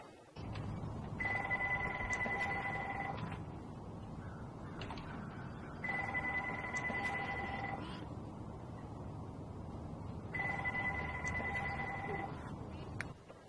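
A telephone rings in three long double-trill bursts with short pauses between them, loud and steady, heard over a low room hum with no talking.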